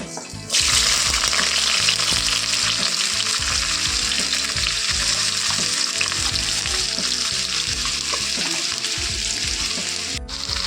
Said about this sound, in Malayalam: ഉരുളക്കിഴങ്ങും ക്യാരറ്റും ആദ്യം എണ്ണയിൽ വറുത്തെടുക്കാം